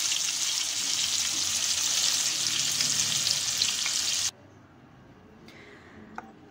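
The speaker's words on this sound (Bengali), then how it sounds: "গরম তেলের মধ্যে আমি দিয়ে দিচ্ছি লবণ হলুদ মেখে রাখা মাছগুলো ভালোভাবে ভেজে নেব।" Fish rubbed with salt and turmeric fries in hot oil with a loud, bright, continuous sizzle close by, which cuts off abruptly partway through and leaves quiet room sound with a faint click.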